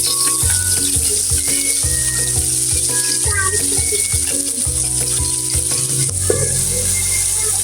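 Spiced onions frying on top of fish in hot oil give a loud, unbroken sizzle heard close by, with no voices.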